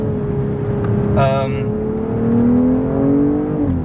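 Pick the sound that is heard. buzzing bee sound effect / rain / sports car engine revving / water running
sports car engine revving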